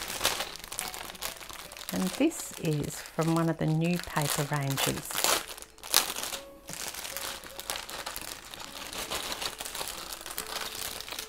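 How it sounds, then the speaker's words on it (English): Crinkly plastic packaging rustles and crackles as it is handled and pulled open, with a person speaking briefly partway through. "Excuse the noise while I get it out of the packet."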